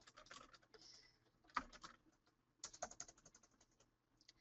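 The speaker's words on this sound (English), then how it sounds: "My beautiful typing here." Notes being typed on a computer keyboard: two quick bursts of key clicks separated by a short pause, close and fairly quiet, with no talking.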